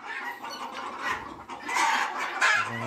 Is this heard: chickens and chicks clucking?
yes